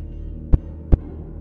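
Two deep, thudding heartbeat pulses from the Roblox horror game Betty's Nursery 2, spaced about four tenths of a second apart over a low droning hum.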